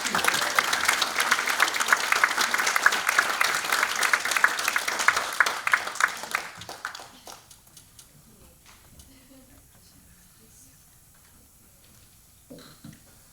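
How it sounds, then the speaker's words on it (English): Audience applause at a poetry summit, a dense steady clapping from a full room that fades out after about six seconds, leaving quiet with a few scattered late claps. "clap for her sons"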